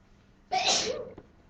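A single sharp sneeze during a geometry class, a short loud burst with a quick intake before it, heard alone in a quiet room.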